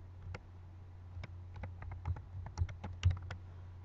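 Soft tapping of a password onto an iPad touchscreen keyboard, a run of light, irregular ticks and clicks close to the microphone over a low steady hum, with no voices.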